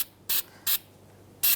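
Anti-seize is sprayed from a can onto the wheel hub of a 2010-2013 Kia Soul during a rear wheel bearing job, in three short, sharp hissing bursts, close and loud with quiet gaps between.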